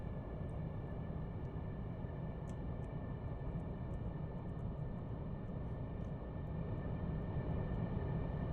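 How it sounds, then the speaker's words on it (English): A simulated airliner rolls along the taxiway toward the runway in a flight game, its engines producing a constant low droning rumble with a faint high whine, steady and unbroken, no voices. "Alright, and so we're taxiing out."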